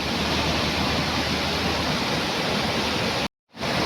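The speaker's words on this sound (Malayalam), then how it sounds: "നല്ല വെള്ളച്ചാട്ടം." A waterfall on a flowing river roars as steady, dense broadband rushing water, loud and close, with a brief total dropout near the end before the roar resumes.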